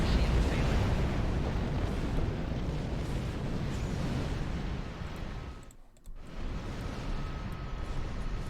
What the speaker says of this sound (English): So many explosions, man.